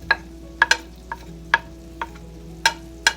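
Garlic sizzles in a pan of butter and oil while a utensil stirs, giving sharp scraping clicks at an uneven rhythm over a steady low frying hiss, close up, with no talking.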